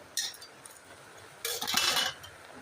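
Metal lid set onto a cooking pot of cabbage vegetables, with a light clink followed by a longer metallic rattle and scrape, close and fairly quiet.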